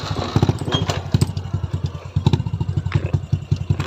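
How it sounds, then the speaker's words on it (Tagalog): A motorcycle engine being cranked to start, giving close, rhythmic chugging thumps and clattering pulses that run unevenly for several seconds without a clean catch. "Lah, ayaw mag-start ng motor."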